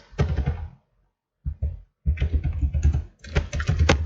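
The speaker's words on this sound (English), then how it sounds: "You should type your password" Keystrokes from typing a password on a computer keyboard during a Linux terminal session, coming in clustered rapid bursts separated by short pauses and a near-silent gap, close and fairly loud.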